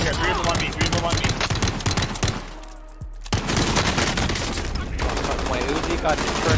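An Uzi fires on single-shot mode in a squad video game, loud sharp reports in a rapid irregular run, broken by a brief quieter gap before the shooting resumes amid battle noise.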